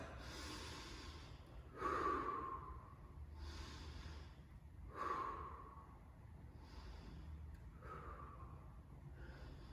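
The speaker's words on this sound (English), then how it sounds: "Find your rhythm of your breathing." Slow, deep breaths at the end of a home workout, drawn in through the nose and pushed out through the mouth, three full audible cycles with soft hissy exhales, close and fairly quiet, no talk.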